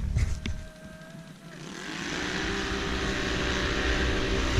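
Polaris and Can-Am off-road vehicles race over a jump: a loud engine roar rises and holds steady, following a burst of rough noise at the start, with faint voices in the background.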